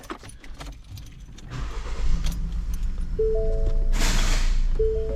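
A Ford EcoBoost engine with a cylinder misfire cranks and catches after a few small clicks, then runs with a rough, uneven idle; a brief hiss and a whining tone rise over the running engine.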